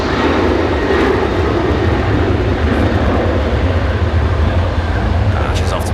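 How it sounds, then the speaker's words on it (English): A Virgin Boeing 737 jet rolls on a full-length takeoff at Brisbane Airport, its steady loud engine roar filling the scene continuously, heard from fairly close with voices talking over it. "Making a full-length departure here,"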